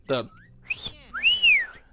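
A person whistles to imitate a rare-item alert from the video game Yooka-Laylee, giving a few short rising and falling whistled notes with a brief voice sound at the start.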